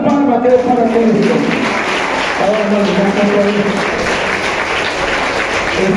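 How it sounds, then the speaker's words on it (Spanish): A congregation at a Christian church service claps hands steadily and energetically, a dense continuous patter with voices mixed in underneath. "Fuerte esas palmas que es para Cristo."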